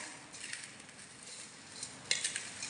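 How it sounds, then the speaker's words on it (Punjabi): Onion, tomato and lemon being mixed for Bombay-style bhel puri, a soft, steady rustle and light scraping of utensils with a few sharper clinks near the end, fairly quiet and with no talking. "ਹੁਣ ਇਹਨਾਂ ਨੂੰ ਆਪਾਂ ਮਿਕਸ ਕਰ ਲੈਨੇ"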